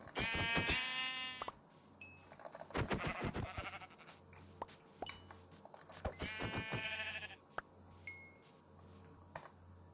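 Several Minecraft sheep bleat in short wavering calls, some overlapping, mixed with clicky tapping sounds and soft background hum between the bleats.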